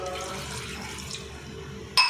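A glass of water is poured into a pressure cooker holding goat trotters for paya, a brief soft liquid gush that ends with a louder splash and clink.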